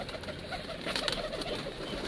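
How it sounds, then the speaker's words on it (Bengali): Lotan pigeons coo softly at a pigeon farm as they come out, with a continuous low murmur of several birds close by. "এই যে আমার লটন কবুতরগুলা সবগুলো বের হচ্ছে।"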